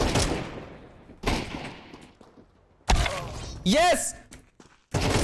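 Rapid bursts of gunfire from Counter-Strike 2 crack out close and loud in clustered volleys with pauses between, over an excited player's shouting.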